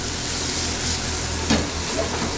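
Mushrooms sizzle in butter in a hot pan on a stove flame, a steady, loud frying hiss with a brief crackle partway through.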